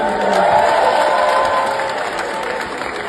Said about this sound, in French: Maximum d'applaudissements pour Madès Waba.